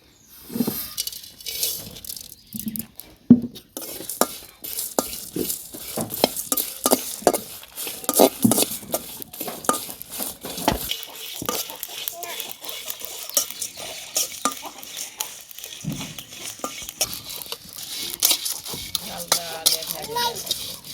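Ingredients for a sweet jujube (kul) pickle, with chili and ginger, are stirred and fried in a hot wok, giving repeated scraping spoon strokes and clinks against the pan over a steady background sizzle.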